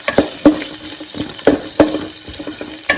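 Chopped coconut frying in coconut oil in a pan with onion and curry leaves, stirred as it cooks: close, sharp scrapes and taps repeat every half second or so over a soft, steady sizzle.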